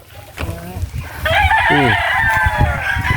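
On a coffee farm, a rooster crows loudly and close by, a long drawn-out call rising over the clucking of chickens in the background.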